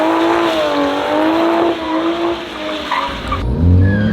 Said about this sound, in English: Started a little burnout.